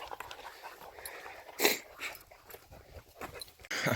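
A dog pants and whimpers outdoors during a deer shed antler hunt, breathy bursts coming in short uneven runs, with one sharper louder burst near the middle amid rustling.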